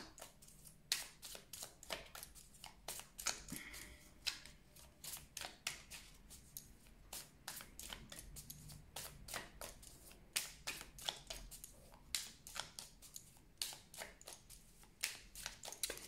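A deck of tarot cards is shuffled and cut, giving rapid, crisp riffling and flicking bursts that repeat throughout, close and fairly quiet.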